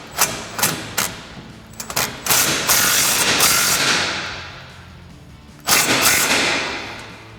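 A 3/8 electric impact gun with an 8 mm Allen head tightens exhaust bolts on a 2009-2018 RAM 1500 5.7L, firing in loud close rattling bursts, short ones first, then a long sustained run and another burst near the end.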